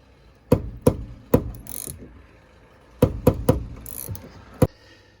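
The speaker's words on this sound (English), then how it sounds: "put on that 14mm wrench like that, and then just put that vice grip on top just to keep the top part stable while I undo the bottom" A 14mm wrench loosens the bottom nut of a rear shock absorber on a Toyota Sienna, with sharp metallic knocks and ratcheting clicks in two groups separated by a brief pause, close and distinct.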